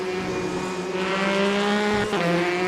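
A Ferrari race car in a Le Mans endurance racing video game brakes late into a chicane and runs wide into the gravel, its engine a loud sustained tonal whine that shifts pitch as it slows, with no talk.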